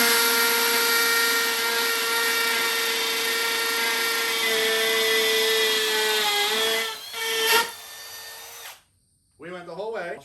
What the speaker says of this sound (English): this is a 3/16 and a standard M18 FUEL hammer drill